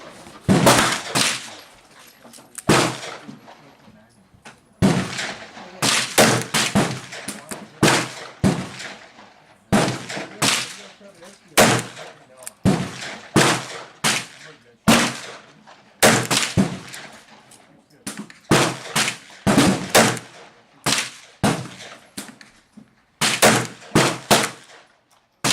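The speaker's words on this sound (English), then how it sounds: "here we go with the 6 more shots" Rounds of .35 Remington bullets fired from a .38 Special revolver ring out as loud, sharp shots in close succession, in several quick volleys with brief pauses between groups, with no talking.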